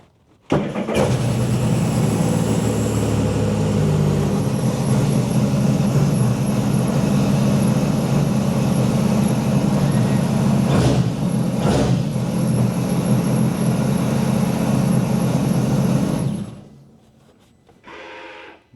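A Titan 12-foot mini jet boat engine roars steadily and loudly for about sixteen seconds after a quick start, then cuts out abruptly, leaving a brief quieter tail.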